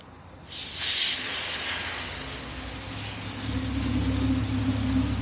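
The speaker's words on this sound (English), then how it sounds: "Maybe we should spray some water on the windshield and see how they sound." A sudden, loud hiss of water spray striking a car windshield, lasting about a second, then steady rushing water and a low engine hum.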